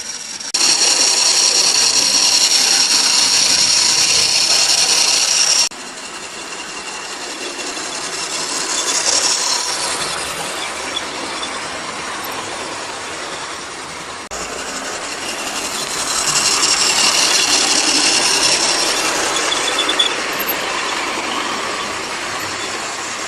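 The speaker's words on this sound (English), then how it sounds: "Let's have another look at the Clerestory rake, this time being pulled by 4970 Sketty Hall." Model railway layout with GWR Hall-class locomotive 4970 Sketty Hall pulling a rake of clerestory coaches, a continuous loud rolling rumble and whirr that swells and fades as the train passes.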